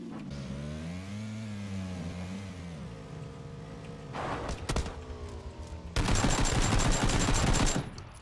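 Gunfire in the video game PUBG, including SKS rifle shots, arrives as sharp cracks and a dense burst of rapid shots near the end, over a droning vehicle engine that revs and shifts pitch.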